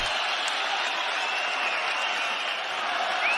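Arena crowd noise at a boxing match fills the air, a dense, steady roar of cheering and applause at moderate loudness, continuous throughout with no clear individual voices.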